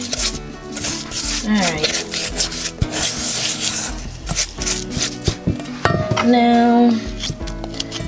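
Peanut butter cookie dough being mixed by hand in a bowl, a steady rough scraping and rubbing with a few knocks, close up, while a person speaks briefly over it.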